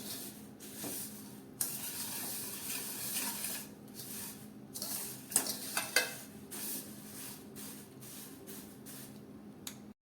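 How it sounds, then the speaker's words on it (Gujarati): Papad poha chevda is stirred in a hot pan with oil, turmeric and spices, giving a steady dry rustling scrape, a soft sizzle and occasional spoon knocks against the pan, with no talking. "ત્રણથી ચાર મિનિટ આ રીતે આપણે ફેરવતા રહીએ"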